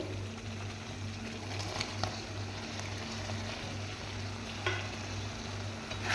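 Paneer cubes are stirred into a sizzling masala for matar paneer, giving a soft, steady fry with a low hum and occasional light scrapes and taps of the spoon, fairly quiet.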